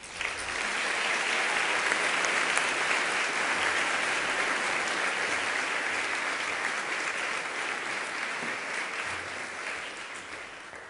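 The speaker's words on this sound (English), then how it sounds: "let's give Eric a round of applause as well" A large audience at an alumni awards ceremony gives a sustained, dense round of applause lasting the whole stretch, steady and loud with no voices over it, slowly tapering toward the end.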